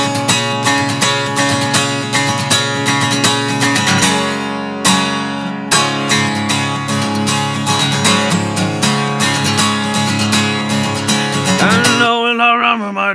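An inexpensive Fender acoustic guitar tuned to DADGAD strums a driving song intro, loud rapid rhythmic strumming with a brief pause midway and a ringing final chord, no voices.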